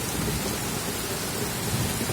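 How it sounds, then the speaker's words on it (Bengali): Heavy rain pours steadily over Kolkata during a thunderstorm, a dense loud roar of water with a deep rumbling underneath, continuous throughout and with no voices. "সঙ্গে জোরে জোরে বজ্রপাত"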